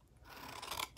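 Scissors cutting out a rectangle of paper make a single short, close rasping snip that builds over about a second, quiet and alone.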